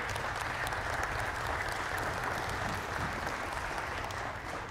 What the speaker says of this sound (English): That's worth a round of applause from the crowd for you.